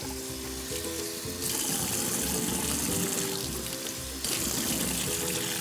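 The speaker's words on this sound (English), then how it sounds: "You take a towel and you wet it a little bit." Tap water runs steadily into a kitchen sink to wet a towel for nesting a mixing bowl, a continuous hissing stream that swells louder at two points, with no talk over it.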